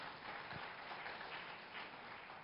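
Broad, dense applause from an audience at an astrology conference in India, steady and fairly distant, filling the whole stretch without pause.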